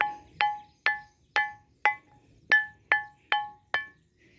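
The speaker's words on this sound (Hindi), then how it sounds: "इस पे मारने से ऐसी आवाज़ आती है, मेटेलिक साउंड आता है।" Old stones salvaged from a demolished village haveli are struck against each other, producing nine crisp, bell-like metallic clinks in a steady rhythm, each ringing briefly, close up and alone.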